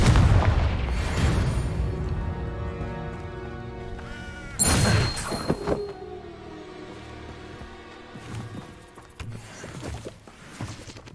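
Confringo fire-spell blasts in the video game Hogwarts Legacy, heavy booming explosions with crackling bursts near the start and a sharp loud impact around the middle, followed by musical game sounds and smaller hits.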